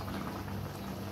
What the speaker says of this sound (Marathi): आणि अशी मस्ती उकळी आलेली आहे बघा